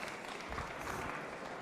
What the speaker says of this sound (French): Oui, on peut applaudir, on peut applaudir.